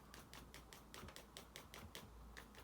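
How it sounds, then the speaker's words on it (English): A pencil taps and scratches on a paper page in quick, evenly spaced light beats like pitter-patter rain, soft and close, with no voices. "I'm listening to the sound of the pencil on the page as well."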